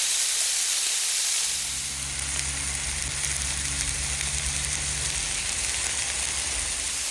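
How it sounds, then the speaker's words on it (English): Diced chicken thighs and bacon with ranch seasoning sizzle steadily on a Blackstone griddle, a loud continuous hiss with a low frying rumble that settles in after the first two seconds, close and without talk. "we'll just kind of cook this and mix it together on the Blackstone for about 8 more minutes"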